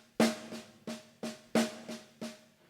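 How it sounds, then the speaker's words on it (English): Drum fill played as a single stroke roll with every left-hand E accented, a rhythmic string of sharp snare hits with alternating strong and lighter strokes, close and clear with no talking. "I'm going to accent all of the E's on my left hand just for the single stroke roll"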